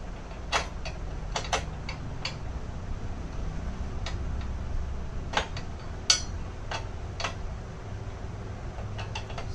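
Spanners, a T-handle wrench and a torque wrench tightening crash guard bolts on a KTM 390 Adventure motorcycle: scattered sharp metallic ticks and clicks over a low, quiet background hum.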